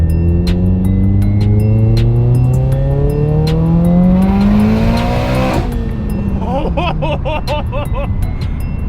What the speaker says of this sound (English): I'm just gonna do a little second gear pull real quick.